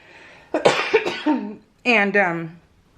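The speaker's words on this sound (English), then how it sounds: "I got rid of the cough for a while, but now that I'm talking, it hits me" A person coughs in a few harsh, throaty bursts close to the mic, followed by a second pair of coughs after a short pause.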